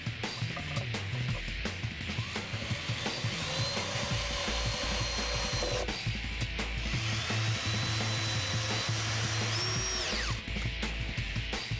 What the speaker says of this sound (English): Go ahead, start putting the screws in.